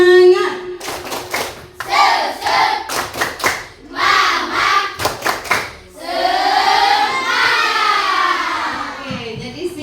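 A classroom of children claps together on a teacher's cue in a rhythmic spirit cheer, bursts of synchronized hand claps alternating with chanted group voices, loud and close.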